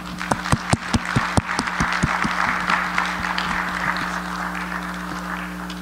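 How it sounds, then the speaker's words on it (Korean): A church congregation claps to welcome a pastor to the pulpit, a few sharp nearby claps at first, then scattered, softer clapping that thins out over several seconds. "우리 목사님 나오셔서 오늘 정말 교회는 하나님의 가족입니다 라는 제목으로 말씀 나누실 텐데 우리 박수로 환영하겠습니다"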